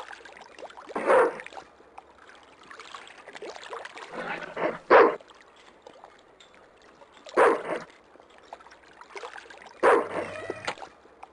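Dog in the Broken Sword 2 video game, giving several short separated barks and yelps spread through a quiet game scene, each burst loud and close, with faint background ambience between them.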